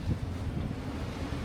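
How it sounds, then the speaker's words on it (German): Strong wind buffets the microphone while sailing a boat in fresh breeze over flat water, a steady low roar and rumble filling the whole stretch without any talk. "Viel Wind, aber keine Welle."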